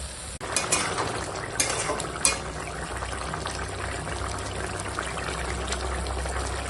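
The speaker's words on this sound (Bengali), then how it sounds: "এখন মাছ দিয়ে পালং শাকটা রান্না হবে।" Katla fish that has already been fried, together with washed and cut spinach, stirring and sizzling in a pan, a steady close hiss with a few scraping clinks of a utensil at the start.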